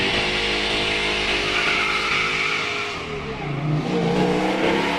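A 1965 Ford Mustang GT 289 muscle car's engine roars loud and close, holding a strained rising note that dips briefly and then climbs again with a squealing edge.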